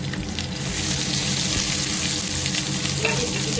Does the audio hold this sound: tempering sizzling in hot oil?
yes